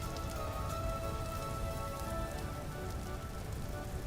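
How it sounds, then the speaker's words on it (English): Steady rain falls in the survival game Vintage Story, a soft, continuous patter on surfaces with no thunder, even and fairly quiet from start to finish. "I'm not hearing any thunder, though. It's just rain."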